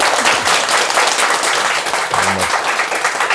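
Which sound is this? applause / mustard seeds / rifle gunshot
applause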